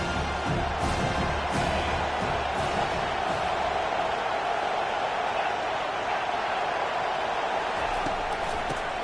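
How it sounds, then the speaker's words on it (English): A home crowd roars and cheers at a college football game between the Tar Heels and Volunteers, a steady, loud wash of stadium noise across the whole stretch with no clear voice standing out. "how nice is it to have the home crowd going absolutely bananas?"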